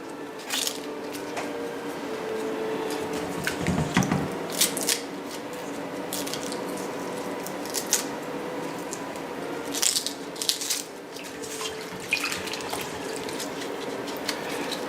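Leeks being washed in a bowl of water to work out sand and grit, giving continuous close squelching, sloshing and rubbing with small splashes.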